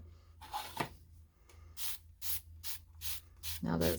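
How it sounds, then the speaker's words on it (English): A spray bottle spritzes onto a surface in a series of short, crisp hissing bursts, about six in a row with small gaps between them, close and clear, with faint handling rustles before them. "So we're going to spray it."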